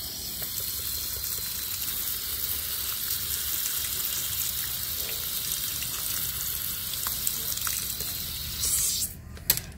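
Aglaonema roots are rinsed under running water, a steady broadband splashing and gushing that stays even and fairly close throughout, with a brief louder knock of handling near the end.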